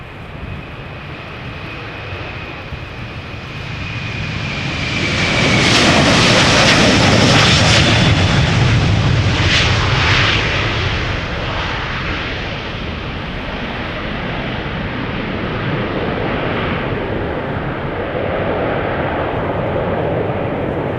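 A Delta Airlines Airbus A330-300 takes off at Schiphol's Polderbaan. Loud jet roar swells as it passes close, peaks, then eases into a long, sustained rumble with a high engine whine fading early.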